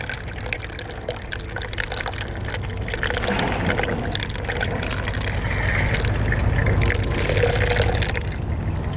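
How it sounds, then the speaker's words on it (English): Water poured by hand over a small model community to simulate rain, a steady broadband splash and trickle running continuously, fairly close and moderately loud, with no talking. "very carefully make it rain on our community, trying to be as consistent as we can with our rainwater distribution."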